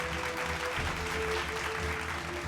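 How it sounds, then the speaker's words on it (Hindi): Steady, loud applause from an audience at an agricultural awards ceremony in India, a continuous dense wash of clapping with a faint sustained tone underneath. "जोरदार तालियों के साथ स्वागत कीजिए साउथ जोन कर्नाटक से महादेवी अधिवेप्पा"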